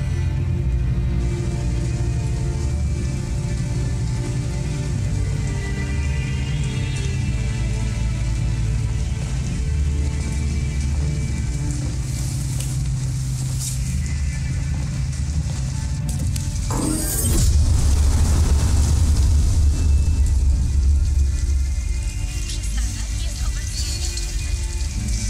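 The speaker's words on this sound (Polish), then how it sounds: "a strasznie leje" Heavy rain pouring in Detroit: Become Human, a steady loud hiss of rain on surfaces with a deep rumble swelling midway.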